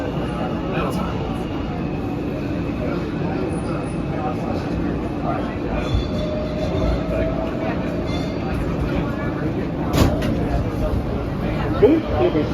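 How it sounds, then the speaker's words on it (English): Interior ride on an NYC R160 subway car on the Queens-bound E line: steady low rumble with rattles and wheel clicks, occasional sharper knocks, running throughout. "This is a Queens-bound E train."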